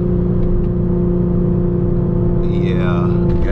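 Tuned sports car engine idling loud and steady with a deep constant drone throughout, a brief rising whine near the end; a person talks over it.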